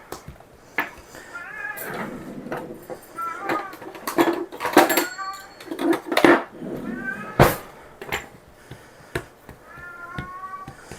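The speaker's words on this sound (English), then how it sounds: "He's talking to the neighbor cat." House cat meowing indoors at a neighbour's cat, a series of loud, drawn-out, wavering meows spread over several seconds, mixed with kitchen clatter of dishes and a drawer.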